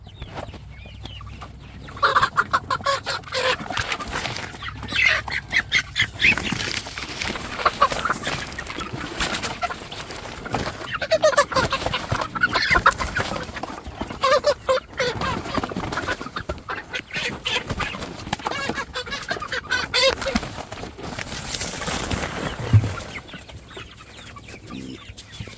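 Several chickens cluck and squawk nearly nonstop while being caught and pushed into a bag, with rustling and handling noise running underneath, close and fairly loud throughout.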